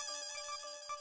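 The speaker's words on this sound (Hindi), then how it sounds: "अरे भिड़े का फोन" A phone ringtone plays a short, bright electronic melody of repeating tones, brief and clear with no talk over it.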